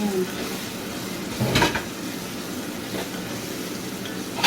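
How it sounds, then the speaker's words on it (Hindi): Spice masala for daal mash frying in a pan, made with paprika, red chili and crushed black pepper, gives a steady soft sizzle with one louder scrape of stirring partway through. "मसाले को अच्छे से फ्राई करेंगे।"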